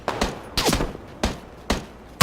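Gunfire in the PUBG video game comes as four sharp shots spaced about half a second apart, each with a short echoing tail. A fifth blast cuts in at the very end.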